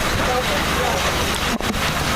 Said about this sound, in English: A light rain has started to fall at Brewster Gunderson.